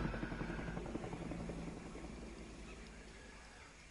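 Helicopter in the video game Predator: Hunting Grounds, a steady rotor drone and engine hum at moderate distance that slowly fades, with no speech over it.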